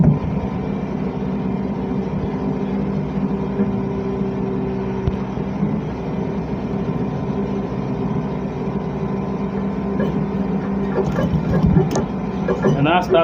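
A sewing machine runs a continuous stitch around a kaftan pocket, giving a steady mid-level motor drone that holds throughout, with a few light clicks near the end.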